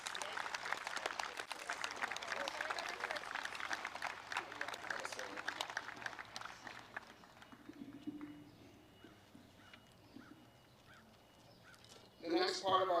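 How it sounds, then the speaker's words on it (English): An audience at a high school sports awards gives a full round of applause that stays dense for several seconds, then thins and fades to a quiet room before a sudden louder sound near the end. "so let's give them a round of applause."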